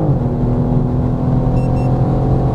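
A BMW M4 Competition G82 accelerates in fifth gear from around 3000 rpm, its engine a steady, loud, deep drone that holds without a break.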